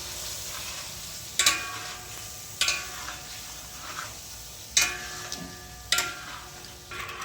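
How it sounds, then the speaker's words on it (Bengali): Chicken simmering in a covered pot on low heat for dum biryani, with a soft steady bubbling broken by four sharp clanks of a spoon or lid against the pot, close and fairly quiet. "এইভাবে আমি চিকেনটাকে বয়েল করে নেব বা রেডি করে নেব।"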